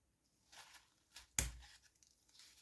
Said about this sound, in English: I am going to just use my scissors, which is not always a good idea